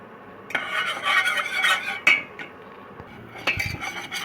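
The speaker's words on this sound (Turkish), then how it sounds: "Bu şekilde arkadaşlar ben katılaşana kadar karıştıracağım." Milk lokma dough is stirred in a pot on the stove until thick, producing scraping and thudding spoon strokes against the metal with occasional sharper clinks.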